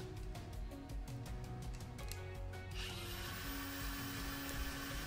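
An angle grinder shapes the metal teeth of a handmade ice axe; rapid clicking and rattling contact gives way to a steady, loud grinding hiss that continues to the end, with no talking.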